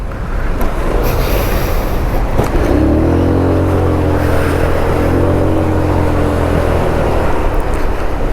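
Heavy road traffic in cold weather heard from a courier's motorbike, a rumbling mix of engines with one vehicle revving and rising in pitch nearby, loud and continuous with no talking.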